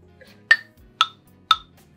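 A metronome app set to 6/8 at 120 BPM ticks three sharp, bright clicks at an even half-second pace over faint background hum.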